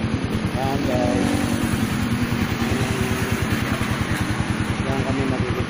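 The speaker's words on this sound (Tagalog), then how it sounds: "Maraming motor, maraming sasakyan." Motorcycles and cars rumble past in hot daytime street traffic, a continuous close engine drone with a throbbing low pulse, and people talk over the noise.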